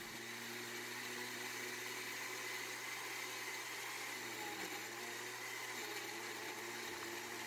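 A blender whirs steadily through salsa ingredients, red salsa with chicken bouillon powder and salt, a constant faint motor drone with no pauses and no talking.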